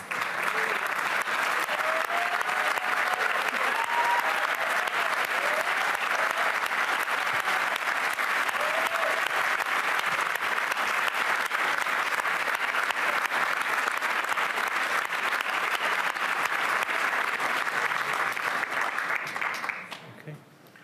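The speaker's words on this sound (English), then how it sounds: "stand so we can give you all one final round of applause" A standing audience at a public service awards ceremony gives a long, steady round of applause, an even roar of clapping with faint voices underneath, fading out after about twenty seconds.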